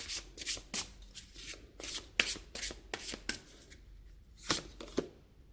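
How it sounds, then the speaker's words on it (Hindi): Tarot cards riffled and shuffled by hand in quiet, close bursts of crisp flutter, repeated in irregular rhythm with short pauses between. "मुझे यहाँ पे कार्ड शफल करने के लिए थोड़ा टाइम लगेगा,"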